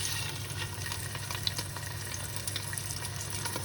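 Prawns frying in a pan for a Greek prawns-in-wine-sauce dish, a steady close hiss and crackle of sizzling oil with faint scattered pops, no talking.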